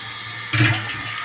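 Water pours from a pipe into a tank in a steady rushing flow that surges briefly louder midway, heard up close with no talking.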